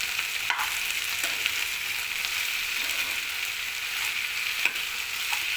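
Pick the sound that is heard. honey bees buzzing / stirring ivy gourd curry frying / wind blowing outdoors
stirring ivy gourd curry frying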